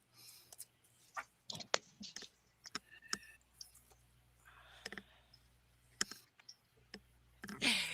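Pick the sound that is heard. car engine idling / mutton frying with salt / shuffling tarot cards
shuffling tarot cards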